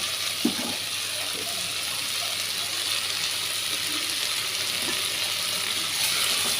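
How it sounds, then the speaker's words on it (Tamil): Spices tempering in hot oil for a chickpea and cashew kurma give off a continuous sizzling hiss, with a few faint clinks and stirring sounds and no talking. "தாளிப்பு பார்க்கலாம்."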